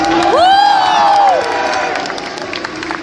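A live crowd at a Call of Duty esports final cheers loudly, a bright whistle rising and falling over whoops and shouts, then fading to a lower murmur of noise.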